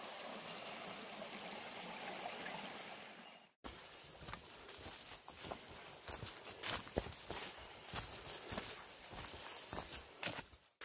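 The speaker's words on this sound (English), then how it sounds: "creek here, running on the side of the trail" A steady rush of a creek running beside a trail for a few seconds, then close, uneven footsteps crunching along over a fainter water background.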